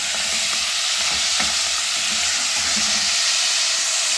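Mutton karahi with black cardamom frying in a pan, a loud, dense, continuous sizzle with faint scraping stirs beneath it, no voices.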